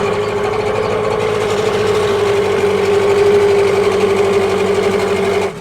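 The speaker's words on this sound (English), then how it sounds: "So that was literally the first pull on that engine." Small outboard boat engine running steadily right after starting on the first pull, a loud continuous buzzing drone with a strong tonal hum that holds even throughout before cutting off at the end.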